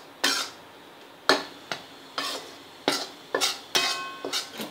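Semolina dry-roasted in a pan for rava besan ladoo, about ten distinct scraping strokes of a spatula across the pan in an uneven rhythm, each a short sharp rasp with quiet in between, close by and with no speech.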